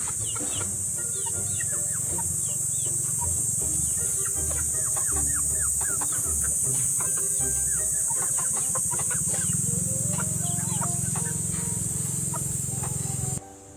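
Chickens cluck and call in a steady chorus over a constant hiss and low rumble, with no talking.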